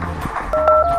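Phone number being dialed on a telephone, a quick series of short, loud keypad tones in close succession.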